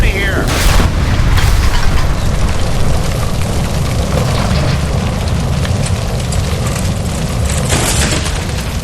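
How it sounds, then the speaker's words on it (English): In the video game L.A. Noire, a gas line explodes with a heavy, sustained rumbling boom that fills the scene loudly, followed by crackling fire and debris noise, while voices shout over it. "Shoot the gas line, Cole, we're out of here!"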